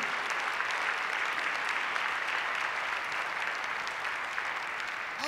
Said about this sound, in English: How about a nice round of applause for Scott Blakeman?